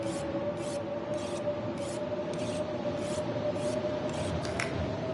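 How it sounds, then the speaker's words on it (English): A whetstone breaking in The Long Dark: rhythmic scraping strokes, about ten in steady succession, over a constant hum, like a blade drawn repeatedly across a whetstone. "That is the sound of a whetstone breaking."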